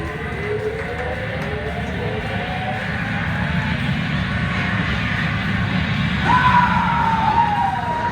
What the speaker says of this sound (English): you get an airplane noise